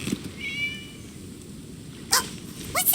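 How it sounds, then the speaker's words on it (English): Cat in the Genshin Impact video game: a couple of short, fairly clear meows stand out above a quiet ambient background near the end. "It was just a cat."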